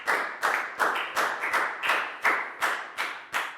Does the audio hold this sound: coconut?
no